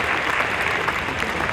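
A banquet audience at a community celebration gives a short, dense round of applause for the mistress of ceremony, steady clapping with no pause.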